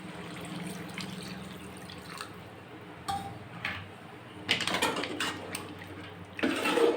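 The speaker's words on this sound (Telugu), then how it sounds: "ఇప్పుడు దీంట్లోకి తగినన్ని వాటర్ వేసుకుందాం." Water pours into a pot of simmering country-chicken curry, giving soft splashing with metallic clinks, growing louder and more turbulent in bursts toward the end.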